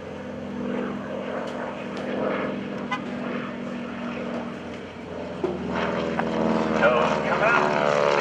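A propeller airplane flies a victory roll at the NAS Oceana airshow, its engine droning loudly and shifting in pitch as it passes, while an announcer's voice carries over the public address.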